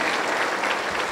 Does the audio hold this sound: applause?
yes